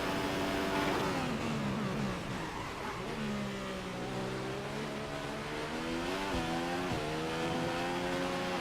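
A Formula One car in the racing game F1 2015 at the Bahrain Grand Prix losing traction and spinning: a high engine whine with rising and falling pitch, bending sharply as the revs surge and drop, steady and close with no voices.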